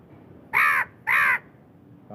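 A crow caws loudly twice in quick succession, close by, with a short pause between the harsh calls and quiet room tone around them.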